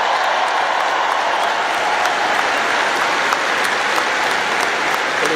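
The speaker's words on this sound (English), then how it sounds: "let's give a big round of applause to the leaders of this state" A big crowd at the University of Alabama commencement applauds steadily and loudly throughout, a dense, even wash of clapping with no speech.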